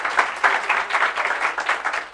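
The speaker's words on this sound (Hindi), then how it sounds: "एक बार जोरदार तालियां हो जाए पहले मेरे बच्चों के लिए।" Loud, steady applause from a class of students fills the room, a continuous dense clapping that holds at an even level without pause.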